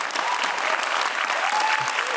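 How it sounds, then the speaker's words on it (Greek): A studio audience applauds loudly and continuously at a Greek music and talk show, dense clapping filling the short stretch with no break. "Ένα χειροκρότημα για αυτό το αριστούργημα"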